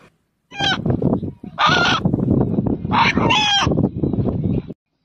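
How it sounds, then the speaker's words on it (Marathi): A rooster crows loudly and close by in several drawn-out, strained calls, with short gaps between them. "हा कोंबडा अण्णा या नावाने हाक मारतो आहे"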